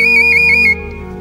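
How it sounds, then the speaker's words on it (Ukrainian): A Transcarpathian clay bird whistle is blown in one loud, shrill, warbling note lasting under a second before cutting off. "ліпили із нашої закарпатської глини, ліпили свистульки"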